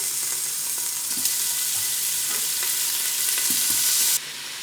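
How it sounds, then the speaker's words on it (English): Bacon pieces fry and crisp in an Instant Pot with a continuous close sizzle and scattered spatter pops, plus a few soft stirring clicks, cutting off near the end. "So we just want to crisp this up, get some of the fat out of the bacon, cook it down a little bit"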